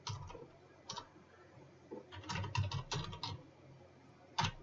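Keys on a computer keyboard are typed while code is entered for a C# loan payment calculator, in quiet clusters of close clicks with short pauses between them.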